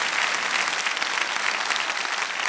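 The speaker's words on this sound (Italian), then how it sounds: "con questo applauso, te ne faccio fare un altro" An audience applauds during an evening of a song festival in Avezzano, a dense, steady wall of clapping that stays loud throughout without voices on top.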